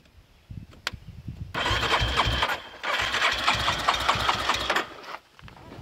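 A Yamaha engine cranks on its starter after the two big bolts on the starter solenoid are bridged. It whirs loudly and steadily for several seconds after a few faint clicks, then stops abruptly, with no talking.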